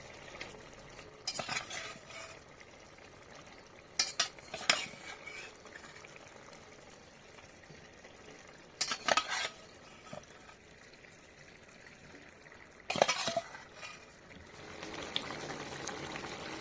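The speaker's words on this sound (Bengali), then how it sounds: "এই গ্রেভির ওপরে আমি চিকেনগুলো দিয়ে দেবো" Chicken pieces go into a gravy in a pan for chicken kosha, followed by bursts of wet stirring and sloshing over a quiet sizzle. The bursts come at spaced intervals, and no one talks.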